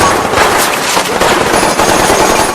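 Loud, rapid bursts of gunfire crackle continuously, dense and close, like automatic weapons firing without pause.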